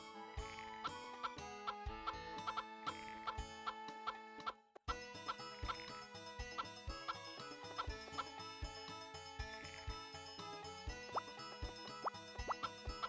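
Cartoonish chicken clucks and plops from the farm game Harvest Moon 64, repeated short blips over a busy looping chiptune-style music track with a brief dropout midway.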